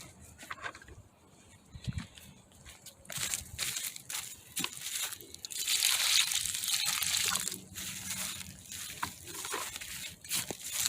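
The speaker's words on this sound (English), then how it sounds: "Puts a little water on it." Water poured onto a newly planted banana plant topped with ashes, cow pie compost and compost tea in a zone 8b garden, a faint splashing wash that swells in the middle, with scattered rustles and crunches around it.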